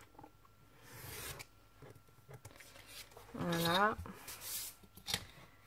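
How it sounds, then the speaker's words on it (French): Craft knife slicing through decorated paper, several close scraping strokes and rustles of handled paper, with a short spoken word partway through. "Là, je vais couper au cutter"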